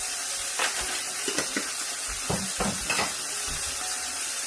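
Chicken pepper steak with chili flakes sizzles in a hot pan under a constant frying hiss, while a spoon scrapes and stirs in several short bursts close by.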